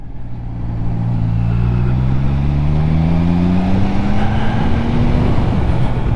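A Triumph Trident 660 motorcycle engine droning steadily under way on the road, rising in pitch as it pulls through the revs, loud and close with wind rush and no talk.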